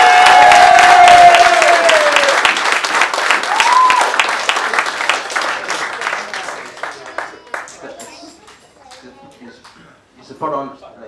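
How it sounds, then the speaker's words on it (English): Wedding guests break into applause after the speeches, loud dense clapping that starts at full strength and gradually thins into scattered claps, with a whoop or two and some murmured voices as it fades. "So a round of applause, please."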